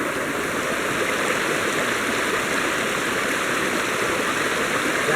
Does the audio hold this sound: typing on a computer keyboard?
no